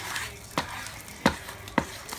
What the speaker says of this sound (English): Just wanna mix it up, make it all even.